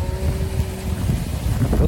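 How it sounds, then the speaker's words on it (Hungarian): Strong wind buffets the microphone while fishing from a boat, a loud continuous low rumbling roar with gusty fluctuations and a faint steady tonal hum underneath. "Most indult el a szél."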